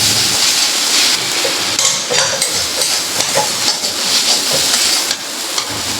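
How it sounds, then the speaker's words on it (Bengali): Malabar spinach leaves fry with green chili in a pan, giving a loud, steady sizzle and hiss with light stirring scrapes throughout. "আমার ভাজা হয়ে আসছে।"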